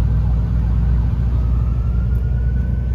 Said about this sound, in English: The CAR sounds real good